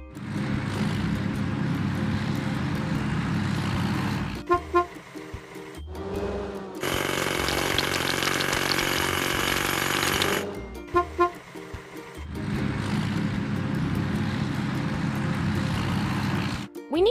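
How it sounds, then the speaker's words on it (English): Hydraulic hammer on a machine in a house-building mobile game, pounding rocks with dense mechanical rattling in bursts; a sustained brighter hammering stretch in the middle, with short pauses between bouts. "Hydraulic hammer."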